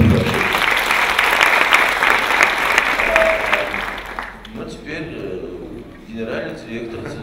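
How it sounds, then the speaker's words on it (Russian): Strong audience applause at a youth culture and values forum, loud and sustained for about four seconds before fading into a quieter hall with a voice speaking. "это заслуживает аплодисментов"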